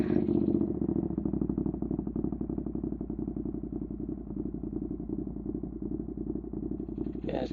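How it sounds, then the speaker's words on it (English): Motorcycle engine fired up and left idling, a steady close, loud mechanical chug with light clatter running throughout, briefly brighter at the start and end. "Fire up the bike first."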